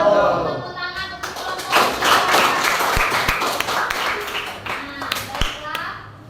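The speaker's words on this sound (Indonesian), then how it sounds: "Tepuk tangan untuk" A school class claps for a classmate in a science lesson, a short burst of children's hand clapping with a few sharp taps and thumps, mixed with children's voices, then dying down.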